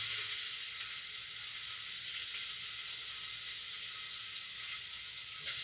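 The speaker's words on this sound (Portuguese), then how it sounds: "Vou dourar o bacon" Bacon browning in a pot for a Sunday pot roast gives a steady, even sizzle that holds at the same level throughout, with no voices over it.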